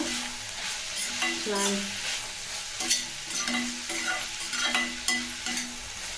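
Bitter gourd being stirred with salt in a cooking pan, a steady scraping and rustling with soft sizzling, close and continuous with a few sharper knocks of the spoon against the pan.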